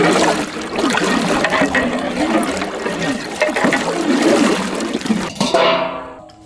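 Red tender coconut water is poured in a steady, splashing stream into a vessel for a village sarbath, loud and close for about five seconds before cutting off into a faint trickle.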